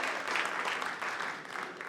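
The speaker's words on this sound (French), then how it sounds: "Une bonne main d'applaudissement pour l'équipe de Saint-Jean-sur-le-Richelieu." An audience gives steady, close applause for a team at the Science, on tourne! 2025 contest at Cégep Saint-Jean-sur-Richelieu, the clapping continuous and fairly even for a couple of seconds.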